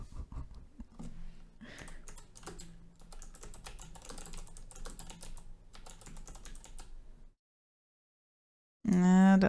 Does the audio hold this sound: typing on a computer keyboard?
yes